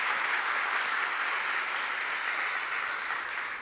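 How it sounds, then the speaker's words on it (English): Steady applause from a crowd, a dense wash of clapping that holds for several seconds and then slowly tapers slightly. "let's welcome him with a big round of applause."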